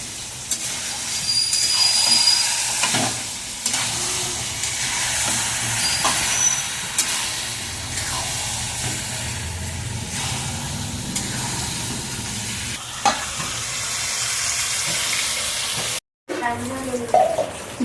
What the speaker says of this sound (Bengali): আমি এবার মাংসটাকে ভালো করে কষিয়ে নেব।